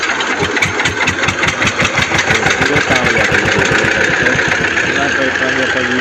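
A John Deere tractor fitted with a loader runs its diesel engine, a loud, close, rapid rhythmic chugging that holds steady throughout.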